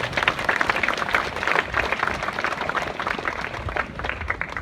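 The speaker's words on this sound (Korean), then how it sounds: "자원봉사자들께 큰 격려의 박수 좀 부탁드리겠습니다." A crowd applauds steadily, dense clapping sustained and fairly loud throughout with no voices standing out.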